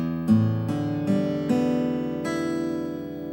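Six open guitar strings strummed in tune, one note after another in quick succession, then ringing together as a clear sustained chord up close.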